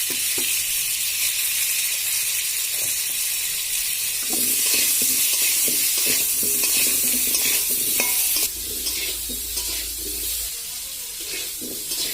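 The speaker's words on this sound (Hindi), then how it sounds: "अभी आलू को भी ऐसे ही सेम हल्दी और थोड़ा सा नमक देके फ्राई करके लूंगी मैं पहले" Potatoes frying with turmeric and salt in a pan, with a continuous close sizzle, repeated scraping stirs, and the hiss growing brighter midway before settling again.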